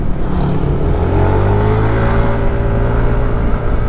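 Steady drone of cars rolling slowly through congested traffic on a narrow two-way road near a church, engines and tyres blending into a continuous low rumble with a vehicle passing close by, no voices.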